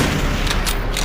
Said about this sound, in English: Before the tanks fire again!